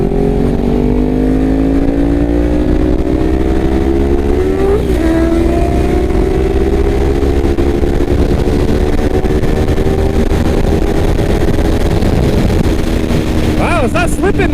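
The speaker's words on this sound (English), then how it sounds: "So we're going to show you a little bit of this clutch slip." A Kawasaki Ninja 400 motorcycle runs with a slipping clutch, its engine droning loud and close with a steady pitch that slowly rises, under wind noise while riding at speed.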